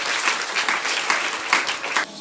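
A church congregation claps together in thanks to God, a brief burst of dense, fairly loud applause that cuts off abruptly near the end.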